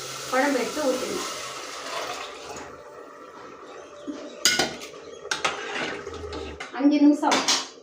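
Gravy poured into a pan of sautéed onions with ginger-garlic paste for a Tamil anchovy fish curry: liquid splashing and pouring alongside clanking pots and utensils, close, with brief speech.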